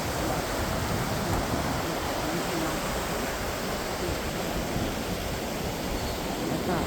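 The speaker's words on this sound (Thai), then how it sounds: "ธรรมชาติที่สวยงามผสมประสานกับเสียงน้ำไหล" Water flows steadily through a natural outdoor setting, a dense, even rushing wash that stays constant and fairly soft throughout, with no voices.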